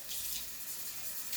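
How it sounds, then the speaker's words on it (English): Tap water running steadily into a beer glass as it is rinsed out, a close, continuous hiss and splash with no voices. "rinse out the inside of the glass"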